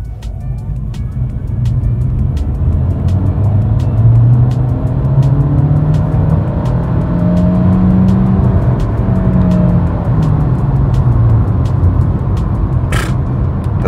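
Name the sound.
hybrid car accelerating from 0 to 100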